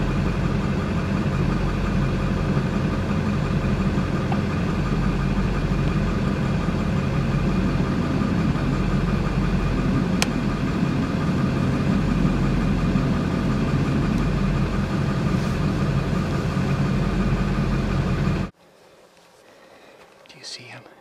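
A truck engine runs at a steady idle for most of the stretch, a constant close drone with faint voices mixed in, then cuts off abruptly near the end, leaving quiet.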